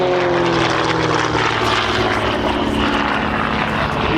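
Flying Bulls aerobatic propeller aircraft performing manoeuvres at the Sywell airshow, a loud, steady engine drone with droning propeller harmonics that holds close and strong throughout.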